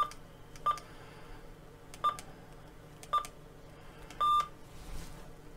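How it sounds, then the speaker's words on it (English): Keypad on a Yaesu FTA-850L handheld aviation radio gives four short electronic beeps while a frequency is keyed in. The last beep is held longer, and they come at irregular intervals over quiet background hiss. "we need to type in the frequency of the VOR using the keypad."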